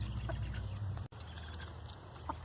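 A rooster on a small farm clucks softly a couple of times at a distance, faint against a steady low outdoor hum with no talking.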